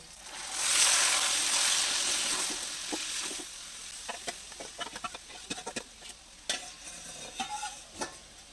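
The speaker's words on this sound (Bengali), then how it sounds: "এবার যে চিকেনটা ম্যারিনেট করে রেখেছিলাম এখন এর মধ্যে আমি দিয়ে দিচ্ছি" Marinated chicken tipped into a hot biryani pot, a loud burst of sizzling as it lands, then quieter frying with scattered scraping and stirring clicks close by.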